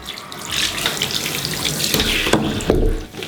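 Tap water runs steadily into a sink while freshly dyed hair is rinsed, a close, full splashing stream with brief surges and spatters, no voices.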